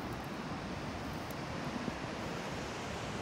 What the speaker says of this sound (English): there's a waterfall directly underneath this bridge